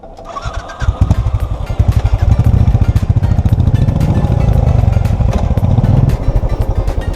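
Several motorbikes on a winter mountain road trip through Spiti, rumbling at close range as they idle and pull in to park, a steady loud engine drone with a pulsing low throb throughout.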